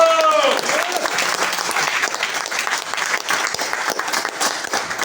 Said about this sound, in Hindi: और जोरदार ताली एक बार